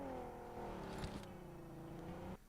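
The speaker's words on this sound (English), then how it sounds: "I think ATL already heard the vehicles," A vehicle engine in the battle royale game PUBG Mobile, played during an esports championship match, a steady droning hum with a slightly falling pitch that cuts off near the end, fairly faint.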